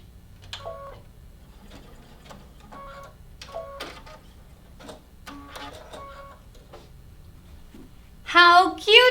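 A sewing machine stitches a coiled rope bowl in short, separate runs of rapid mechanical whirring with quiet pauses between them, followed by a backstitch, with a voice briefly heard near the end.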